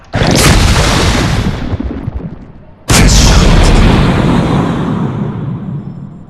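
Starship weapons fire in the Sid Meier's Starships strategy game as two loud, heavy blasts, the second about three seconds after the first, each trailing a long rumbling decay.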